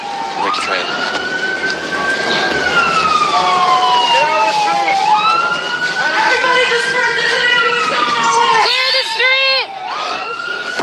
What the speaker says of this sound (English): Protesters now moving themselves off to one side or the other of the street to allow an ambulance to get past.